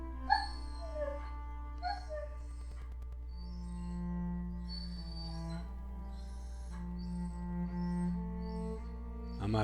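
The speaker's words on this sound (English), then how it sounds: "I'm gonna have to start putting both these dogs into cages when I'm trading." Two dogs whimpering and letting out short yips and drawn-out howl-like whines indoors, fairly close, over a steady low electrical hum, with some sounds overlapping.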